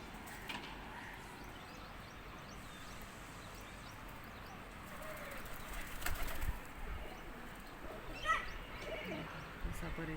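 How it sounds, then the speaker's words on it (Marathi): Pigeons gather to feed beside a building under construction, giving soft coos and occasional wing flaps that sit low under steady background noise while a person talks throughout. "बघा हे कबूतर आलं आता खायला परत"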